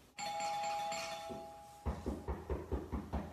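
A doorbell gives a single sustained electronic chime, then fades as a run of regular low thumps starts, like footsteps or knocking.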